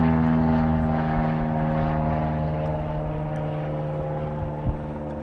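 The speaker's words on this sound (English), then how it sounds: "Tiny Cessna. Someone's going for a ride." A small Cessna propeller plane drones steadily overhead in Tokyo, its low engine hum and harmonic whine constant and fairly loud, easing slightly as it passes.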